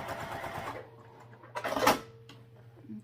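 Sewing machine stitching a fabric sling, a quick whirring run that stops, a short second burst, then quiet.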